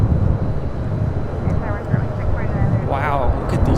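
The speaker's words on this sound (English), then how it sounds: "Wow, look at these takeoffs. This is United Express" A United Express plane taking off at LAX produces a loud, continuous low roar mixed with wind rumble, and a faint voice briefly rises near the end.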